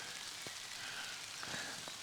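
Light rain patters softly on a river bank, a faint, steady hiss with occasional distinct drops, no talking.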